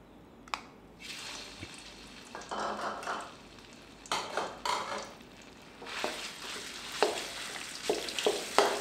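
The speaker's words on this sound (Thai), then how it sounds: "เราจะนำพริกแกงไปผัดกับน้ำมันให้หอมก่อนนะครับ" Red curry paste stir-fried in oil in a pan for a green papaya and canned fish curry: a soft sizzle runs under irregular scraping stir strokes, which get busier and sharper toward the end, with no voices.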